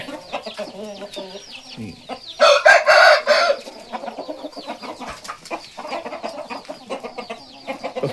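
A flock of young chickens and roosters on a farm, with clucks and calls scattered throughout and one loud rooster crow bursting out near the middle, close by and clear.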